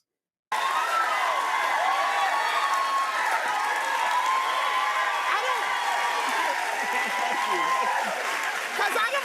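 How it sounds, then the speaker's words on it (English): An audience at a stand-up comedy show claps and cheers in a loud, continuous wash of applause that starts abruptly after a brief silence and carries on to the end. "Look at these fools clapping."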